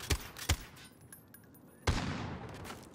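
Gunfire in Call of Duty: Modern Warfare comes in a few sharp shots. Two quick reports sound close together, and a louder blast follows a moment later, all fairly faint under a quiet background.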